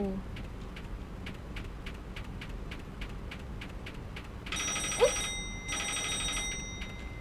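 A telephone ringing in the office horror game Office Paradox, two bright trilling bursts of bell-like ringing, close and clear, following a stretch of quieter ticking, with a voice briefly exclaiming between them.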